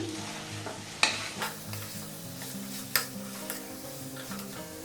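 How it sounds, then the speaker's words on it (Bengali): Mutton sautés with spices in a pan for a salan: a quiet, low sizzle with spatula scraping, two sharp metallic knocks against the pan and softer stirring strokes between them. "আবার একটু মশলার সাথে কষে নিতে হবে।"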